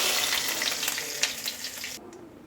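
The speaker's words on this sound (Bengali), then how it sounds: "এখন আমি এটাকে একটু হালকা ভেজে নিচ্ছি" Oil crackles and sizzles steadily as dried red chillies and cumin seeds fry in a pan, with a few sharper pops, before the sizzle suddenly drops away near the end.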